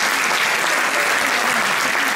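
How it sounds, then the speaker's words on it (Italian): Listeners at a folk trio's concert with zampogna and organetto applaud, a thick, constant wash of clapping from a crowd heard throughout. "facciamo l'applauso"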